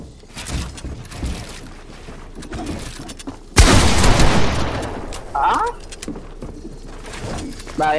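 Gunfire in Fortnite: scattered shots through the first half, then a loud sudden burst of rapid fire that rings out and decays, with chatter and other game sounds around it.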